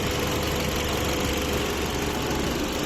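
A 2020 Hyundai Solaris with a 1.6 engine and automatic gearbox idles, making a steady, even hum with constant loudness and no revving.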